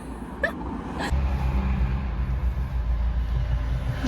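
A car engine turning over and catching, then settling into a low, steady idle rumble after a few brief clicks and knocks.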